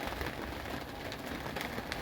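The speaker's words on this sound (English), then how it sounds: "finally getting a little rain here in Show Low" Soft, steady patter of light rain falling on a surface in Show Low, Arizona, with faint scattered drops standing out against a quiet hiss.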